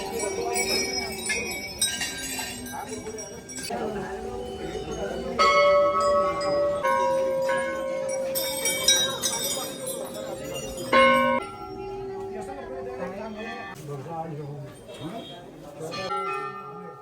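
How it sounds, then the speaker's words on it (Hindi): Countless small bells offered at the Golu Devta temple ring and clang repeatedly, overlapping metallic tones in a busy, continuous jangle, with people talking at moments beneath them. "अनगिनत यहाँ घंटियाँ चढ़ा रखी हैं।"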